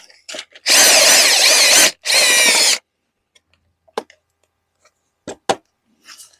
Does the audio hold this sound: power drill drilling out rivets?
yes